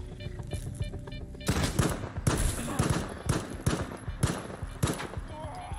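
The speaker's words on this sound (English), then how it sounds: "Time to shoot." Rapid gunfire from a firearm in the video game STALKER 2, a dense burst of repeated shots starting after a quiet moment and continuing close and loud for several seconds.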